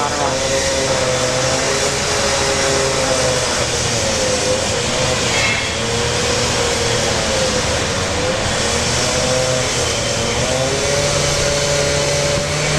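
United Boeing 777 airliner entering the runway at Brisbane airport, a loud, steady jet engine roar and whine lasting throughout.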